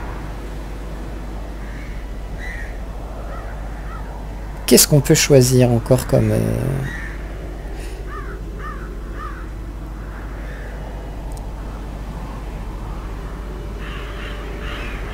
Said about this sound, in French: Vous entendez les magnifiques corbeaux